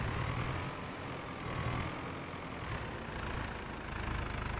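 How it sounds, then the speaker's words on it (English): A farm tractor fitted with a front loader idles steadily, a constant low engine rumble and broadband hum running unbroken throughout, with no talk over it. "This is a pretty good loader, this tractor."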